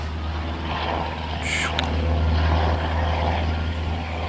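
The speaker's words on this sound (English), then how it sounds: "And there's another airplane, another helicopter" A steady, droning engine rumble of a helicopter taking off hangs in the distance at a Fort Benning jump school graduation, with a low constant hum and wind-like noise, no distinct rise in pitch.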